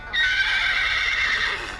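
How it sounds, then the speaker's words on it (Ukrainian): A horse neighs from a children's farm animal app: one loud, clear whinny lasting nearly two seconds that wavers and then fades, with no voices. "Horse."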